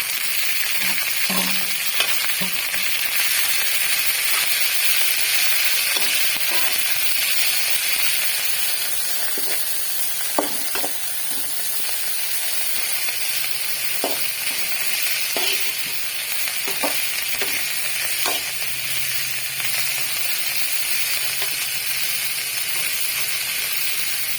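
Drumstick flowers and onion sautéing in a pan, a steady broadband sizzle with scattered soft clicks and scrapes of stirring throughout, close and alone with no talk.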